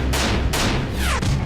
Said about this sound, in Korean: 느닷없이 울려 퍼진 세 발의 총성이 평상시와 다름없던 아침의 분주함을 깨뜨렸다